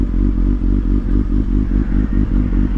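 A Triumph motorcycle ridden on a cold night, its engine thrumming loud and close in a steady pulsing rhythm with faint clatter, no talk.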